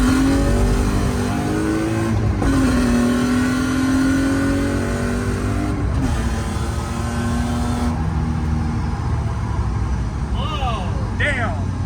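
A BMW E36 Compact car accelerates hard with wheelspin, its engine revving loudly through rising pitch sweeps broken by brief gear-change dips, then easing off toward the end.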